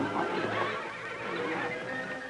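A bucking bronco being ridden lets out a loud, close whinny that rises and then trails off over a couple of seconds, with a hint of hoof clops and no talk.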